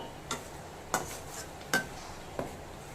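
Onions, tomatoes and curry leaves sautéing in a pan for garlic gravy: a low sizzle under four sharp spoon-on-pan clinks spaced about a second apart, with no speech.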